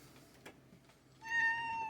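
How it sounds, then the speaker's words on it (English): Female house cat meowing because she wants to eat: one clear, drawn-out meow near the microphone after a quiet stretch, with no talking. "I got a cat who's decided that she wants to eat."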